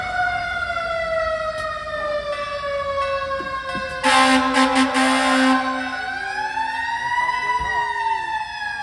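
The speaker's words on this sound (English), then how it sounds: "let's hear that siren" A wailing siren rises and falls steadily, with a loud harsh blast midway and a crowd murmuring underneath, at the 1906 Earthquake and Fire anniversary ceremony in San Francisco.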